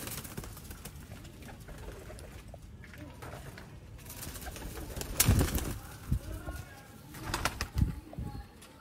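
Sialkoti breeder pigeons coo in low, throaty bursts from a loft, with rustling and a few wing flaps nearby and someone talking over them.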